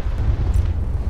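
An explosion in the video game Battlefield 2042 gives a loud, close, deep rumbling boom that fills the whole moment with low, rolling energy.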